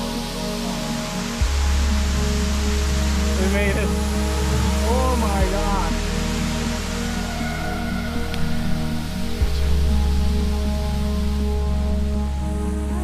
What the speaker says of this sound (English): I think that's the most beautiful waterfall I've ever seen.